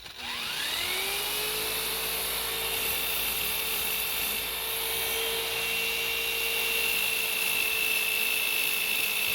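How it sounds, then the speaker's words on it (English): A rotary polisher fitted with a spur tool pad, used on badly oxidized boat gelcoat, spins up from rest with a rising whine and settles into a steady, loud, continuous high-pitched drone, running alone without talk. "Here's a spur tool, and I'm going to spin this up a little bit."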